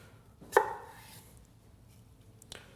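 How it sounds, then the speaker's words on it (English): A single crisp knife cut through an apple onto a cutting board, one clear close thunk followed by a faint second tap, otherwise quiet. "I'll just cut slices of apple down like that onto the board"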